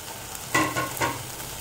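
Ginger garlic paste fries in a pan with a soft, close sizzle and two brief stirring scrapes. The clip is short and has no talk.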